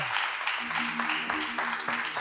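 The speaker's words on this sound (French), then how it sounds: "Encore applaudissements pour Sandra." Studio audience on a French TV talk show applauding a guest, steady crowd clapping with faint music tones and a voice underneath.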